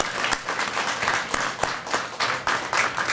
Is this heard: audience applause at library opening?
yes